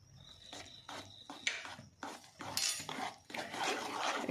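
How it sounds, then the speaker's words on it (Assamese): Spoon stirring cake batter with baking powder in a bowl, quiet repeated scraping and soft clinks in an uneven rhythm, close and alone without speech. "এইখিনি দি পেলাই এইটো ভালকৈ মিলাই ল'ম"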